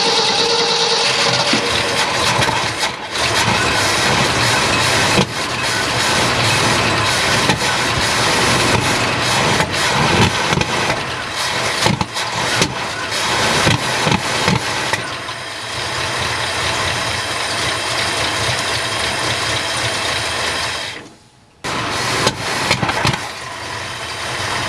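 A 1972 Ford F-250 truck engine turning over and catching, then running steadily and loud nearby for most of the stretch, with a brief sharp dip near the end before the rough running resumes.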